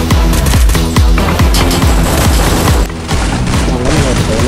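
Rapid gunfire from the mobile battle royale game Free Fire in a ranked survival match, a steady stream of loud repeated shots and booms running over game music, with a player talking throughout.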